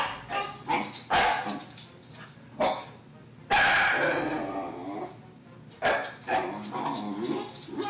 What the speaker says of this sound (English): Is a dog trying to get in or something?